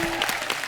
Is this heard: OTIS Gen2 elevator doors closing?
no